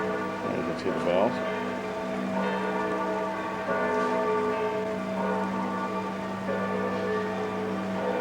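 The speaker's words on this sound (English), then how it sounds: "You can hear the bells." Church bells ring from a white tower in Florence on a clear day, their sustained, overlapping tones humming at a moderate distance over faint outdoor ambience and soft background murmur.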